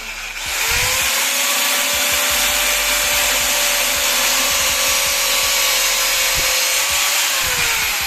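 An angle grinder spins up and cuts a 3 cm length of PVC pipe, a loud, steady close whine that holds for several seconds before winding down, with no talk.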